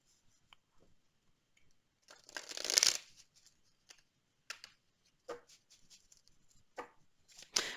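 A deck of oracle cards is shuffled in a quiet room, with one burst of riffling in the middle followed by several short, faint flicks and taps.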